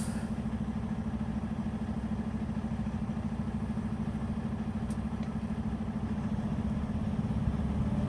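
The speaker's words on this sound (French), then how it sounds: "Je mets le moteur en marche" A truck engine idles in a steady, low, even rumble with a faint mechanical clatter, close and continuous, with no voices.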